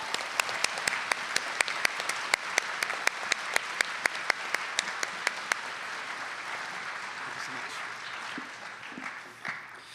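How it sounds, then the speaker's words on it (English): Audience applause after an honour choir performance at a music educators' concert, a dense steady clapping from a large crowd with a few sharp nearby claps standing out early, then fading toward the end. "So one more round of applause for our kiddos here."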